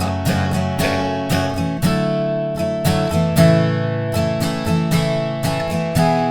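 Acoustic guitar strumming a song's post-chorus chords, bright rhythmic down-up strokes with regular accented hits, played close and alone without voice.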